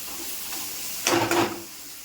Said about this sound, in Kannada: ಬೆಂಡೆಕಾಯಿ ಫ್ರೈ ಮಾಡ್ತಾ ಇದ್ದೀನಿ.